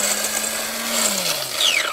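A large coffee machine in the Scary Teacher video game whirs with a steady mechanical drone, its low hum gliding downward near the end while a brief rising tone cuts through, with no talking.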